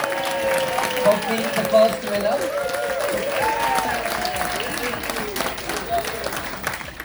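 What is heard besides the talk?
audience applause for a quiz winner on a cruise ship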